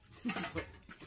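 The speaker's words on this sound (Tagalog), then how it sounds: "Oh, aso na yan." A dog nearby lets out a brief whimpering yelp with a little panting, lasting about a second.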